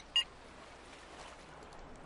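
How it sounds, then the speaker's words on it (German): A mobile phone in the game Return to Mysterious Island gives one short, faint electronic beep near the start, followed by quiet background hiss. "Hat unser Handy gerade Geräusche gemacht?"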